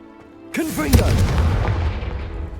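A Confringo fire spell from Hogwarts Legacy bursts with a sudden loud boom after a quiet start, followed by a rumbling, crackling blast tail that stays strong to the end; some game effects sit alongside.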